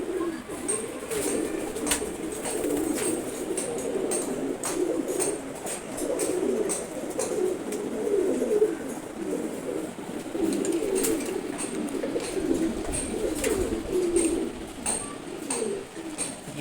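Domestic pigeons coo in a home loft, several birds overlapping in a continuous low, throaty murmur, with occasional wing flutters and faint chirps mixed in.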